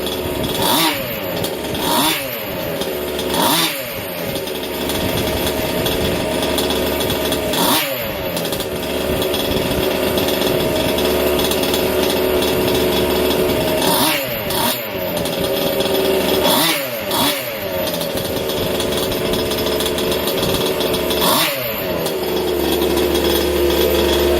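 A gas-powered Losi DBXL RC car engine running rich idles loudly and steadily up close, with frequent sharp revving bursts and a rattly two-stroke buzz throughout.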